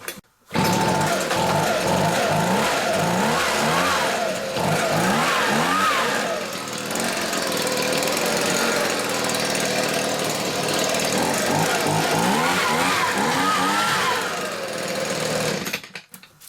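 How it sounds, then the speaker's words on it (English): Husqvarna petrol leaf blower starting up and running, its engine blipped with repeated throttle bursts that rise and fall in pitch, then a steady roar, loud and close before cutting off. "this is an easy start, so you just gently pull it out and off it starts"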